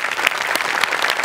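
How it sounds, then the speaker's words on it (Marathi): A studio audience at a comedy show bursts into loud applause after a sketch, a thick sustained patter of many clapping hands with a few sharper claps standing out, and no voices over it. "जोरदार टाळ्या."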